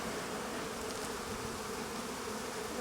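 Honeybees swarm and drone steadily around an opened hive box, a dense, continuous buzzing close by with no talk over it.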